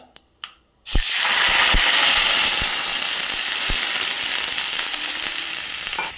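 Mustard seeds and curry leaves hit hot oil for an instant mango pickle, bursting into a loud, continuous sizzle after a couple of faint clicks, with scattered pops from the seeds.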